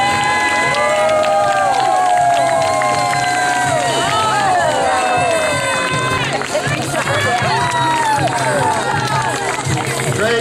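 At a water ski show, a crowd of spectators cheers and shouts continuously along the shore, voices overlapping, with scattered high whoops and a speaker talking over the noise.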